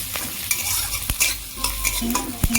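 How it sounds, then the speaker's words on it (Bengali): Chopped green chillies frying with peanuts in a pan, with loud repeated scrapes and knocks of a spatula over a continuous sizzle, close and with no talking. "বাদামের সাথে কাঁচা লঙ্কা কুচিগুলো ভালো করে ভেজে নেব"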